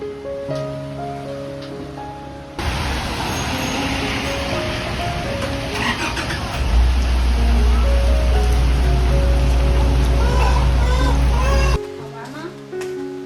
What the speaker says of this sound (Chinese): 这雨今儿个下雨嘞